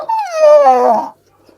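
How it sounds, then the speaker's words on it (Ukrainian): A dog gives one drawn-out, high whining whimper that slides downward and lasts about a second. It is loud and close, with no barking. "Моя собака."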